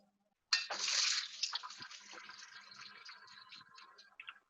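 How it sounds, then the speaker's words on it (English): Cold water runs from a kitchen tap over cooked blue Adirondack potatoes in a colander strainer, a steady close splashing rush that gradually softens and turns patchy. "once they're in the colander strainer, just go ahead and run them, the cold water over it just a little bit, just to cool them down"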